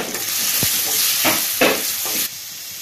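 Onion and ginger garlic paste sauté in a pan for crab pepper masala, with loud, continuous sizzling broken by several close scraping stirs.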